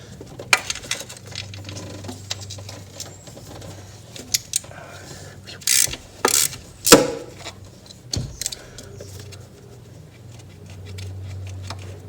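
A nut being worked off a 7.3 Powerstroke diesel engine in an OBS truck during injector replacement, with irregular bursts of rapid mechanical clicking and sharp metallic clinks close by over a low steady hum.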